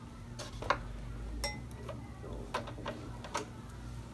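A Cobra industrial sewing machine stitches down leather ring holders on a brown water buffalo purse. Quick needle ticks and clacks sound over a steady low motor hum, irregular and close by.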